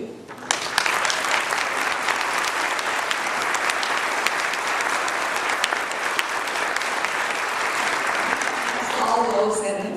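An audience stands and applauds military family members, sustained dense clapping from a large crowd lasting the full stretch, swelling slightly toward the end.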